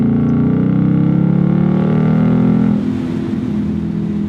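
Deep, steady rumble of a 2020 Ford Mustang GT convertible's V8 exhaust, loud and close, holding a constant drone before easing to a softer, lower idle-like burble near the end.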